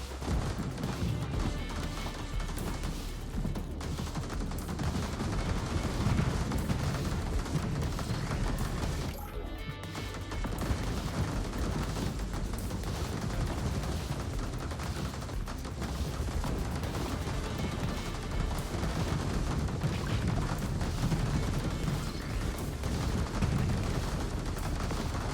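Continuous dense battle noise from the TerraTech Legion demo, with gunfire and crashing impacts blending into a loud, steady wall of sound for the whole stretch, one brief dip near the middle.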